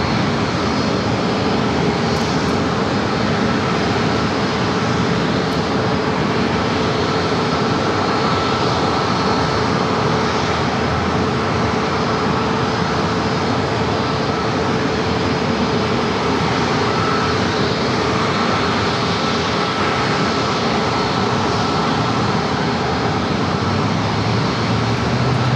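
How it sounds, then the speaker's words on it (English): Alaska Airlines Boeing 737-800 jet arriving at San Diego airport, a loud, sustained broadband engine roar that stays steady and close throughout. "Arrival is Alaska Airlines flight 35 coming in from"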